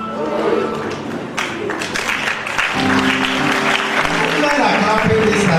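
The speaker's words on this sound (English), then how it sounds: "Men are clapping this time" Men in a church congregation clap together, a dense, loud spatter of hands that blends with raised voices and a crowd murmur throughout.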